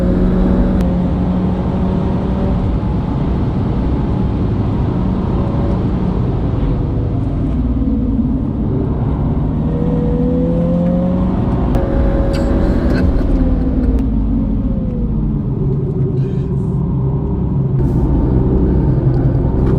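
Loud, continuous engine roar from inside a 2020 Mini John Cooper Works GP with a new exhaust system, the pitch climbing and dropping as it accelerates through gears, with exhaust rumble throughout.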